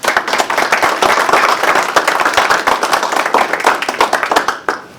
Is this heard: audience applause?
yes